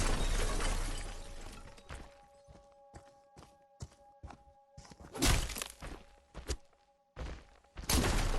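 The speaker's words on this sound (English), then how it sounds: "smashing some doors" Wooden doors being smashed in the Friday the 13th horror game: a heavy crashing shatter at the start, then a run of sharp thuds and knocks, and more loud splintering crashes later, with a faint steady tone underneath.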